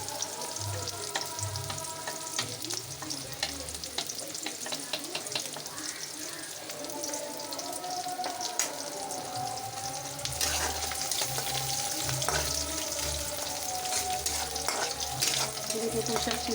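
Spice mix frying in a pan with a steady broadband sizzle, stirred now and then, with running tap water and faint kitchen sounds in the background.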